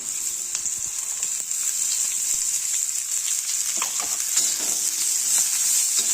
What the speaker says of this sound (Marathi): त्याच्यामध्ये हा बारीक चिरून घेतलेला कांदा टाकूया आपण